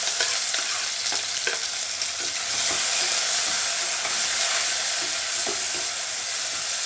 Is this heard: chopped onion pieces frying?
yes